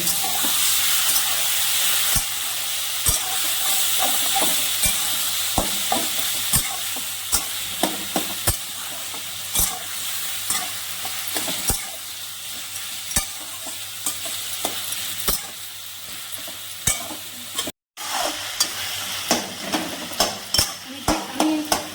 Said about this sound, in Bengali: জল ঘুরিয়ে রাখা কচু শাকটা দিয়ে দিলাম। ভালো করে কষিয়ে নিব।